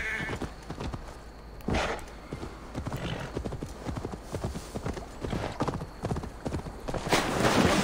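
Horse hooves clopping in Assassin's Creed Valhalla, a brisk close rhythmic patter running the whole time, mixed with bleating animal calls and a loud swell of ambient noise near the end.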